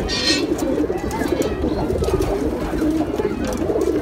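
Racing pigeons at a pigeon farm cooing in soft, repeated low throaty calls, close and continuous, with no voices.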